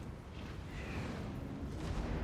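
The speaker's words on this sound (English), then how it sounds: "Cannon." Cannon fire in the fantasy strategy game Warhammer 2: Total War, a dense rumbling barrage of booms rolling steadily over a busy battlefield din, fairly loud with no clear pauses.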